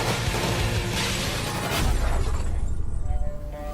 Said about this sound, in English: The glass walls, they get blown and they fall apart.